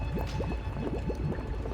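Liquid boiling and bubbling in the video game Nikke, a steady dense gurgle with repeated rising bubble pops, moderately loud and continuous with no talk.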